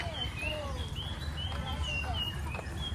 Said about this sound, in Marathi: इथे मस्त पक्ष्यांचे आवाज येत आहेत